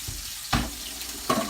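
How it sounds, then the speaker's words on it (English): Chicken breast pan-searing in hot oil: steady frying hiss with two brief bursts of crackling sizzle, close and fairly quiet, no voices. "This is the right amount of sizzle"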